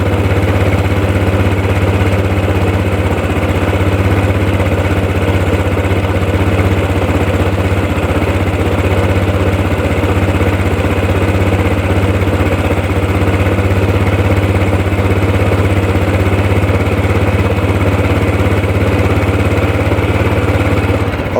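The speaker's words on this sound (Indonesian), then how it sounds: "Kita biarkan dulu mesinnya sampai stasioner, sampai stasionernya stabil ya." A motorcycle engine idles steadily through a morning warm-up, a loud, continuous, even low rumble with no speech over it.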